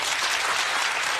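A studio audience at a Jerry Springer talk show taping breaks into loud, dense applause, a continuous wash of many hands clapping together.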